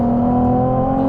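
Ferrari 296 GTB turbocharged hybrid engine driving on the Nürburgring, a loud, steady, droning hum with a strong tonal whine that holds constant throughout, close and alone with no voices.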